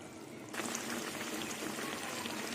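Pointed gourd kofta balls go into an uncovered pot of simmering vegetarian curry gravy, and a soft, steady bubbling hiss rises suddenly and carries on evenly, faint and close.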